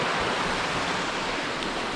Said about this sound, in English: you can see the river, the creek, beautiful kind of white water rapid